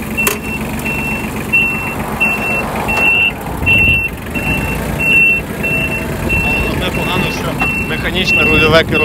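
Steady high-pitched reversing beeps from a Yanmar F155 mini tractor repeat over its running small engine, with voices talking nearby.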